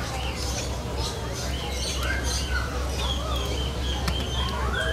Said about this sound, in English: These are beautiful Indian ring-neck parrots.